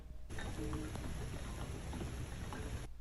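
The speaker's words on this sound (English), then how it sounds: "rain falling" Steady rain falls in a dense, even hiss with soft patters throughout, uninterrupted and fairly close.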